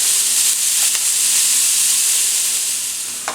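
Onions sizzle steadily as they cook down in a pot for a New Orleans sloppy roast beef po'boy, a constant close hiss with a couple of brief stirring clicks and no talking.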